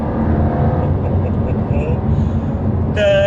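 A Jaguar XE Project 8's engine drones loudly from inside the cabin while driving, a steady low roar that swells near the end, with someone talking over it.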